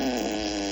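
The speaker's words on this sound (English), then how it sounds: "Here comes a squishy fart." A squishy fart sound effect played by a voice assistant: a short, loud, steady buzzing tone lasting under a second, heard on its own.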